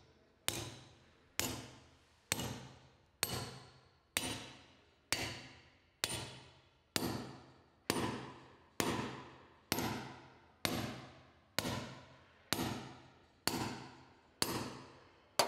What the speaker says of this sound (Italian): Martellate prudentemente l'ancorante per carichi pesanti con l'ausilio di una mazza da fabbro.